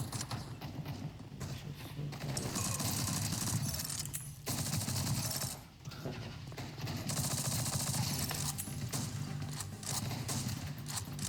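Rapid video game gunfire, a dense continuous stream of loud automatic shots with brief pauses between bursts, filling the mix.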